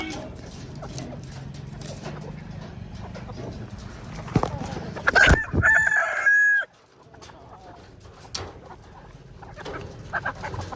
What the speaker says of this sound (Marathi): कोंबड्या आणि बदकं.